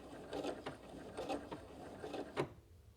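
A sewing machine runs a short backstitch along a stretch fabric seam, a few quiet mechanical whirring bursts with clicks and a pause, close and faint.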